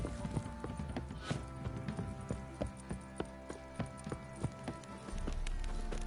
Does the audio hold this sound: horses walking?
yes